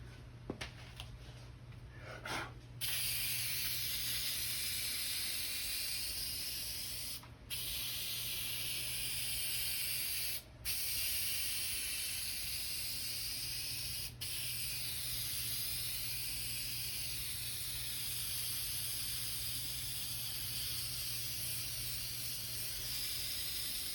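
Spray adhesive hissing from an aerosol can during boat seat upholstery work, long continuous close bursts broken by a few brief pauses.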